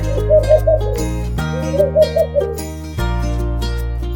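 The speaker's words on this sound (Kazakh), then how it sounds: "Үкі." An owl hoots in two short series of soft, low calls, separated by a pause, over quiet background music.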